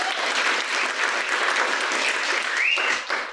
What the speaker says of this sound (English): Big round of applause to Gary and Say for singing their songs for us.